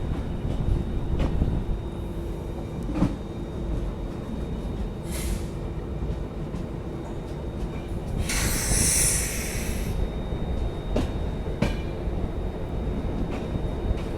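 Konkan Kanya Express hauled by a Pune-shed WP7 locomotive passes with a steady rumbling roll of wagons, a brief hiss of air and a loud burst of high-pitched squealing midway, alone without voices.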